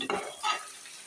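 Ground coconut, ginger, garlic and cumin masala being stirred into a pan of Tamil-style chicken curry, a brief close scrape with a soft sizzle in the background, two short bursts of stirring over about a second.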